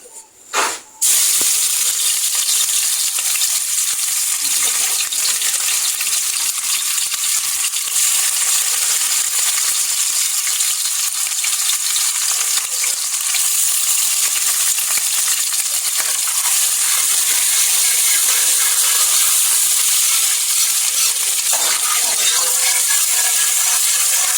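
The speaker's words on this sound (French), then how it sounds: "c'est l'huile qui est au feu. Ça a déjà chauffé. Je vais mettre les oignons." Onions frying in hot oil that has already been heated, for a sorrel sauce: a loud, steady hiss and sizzle follows a brief clatter at the start and carries on unbroken, with no voices.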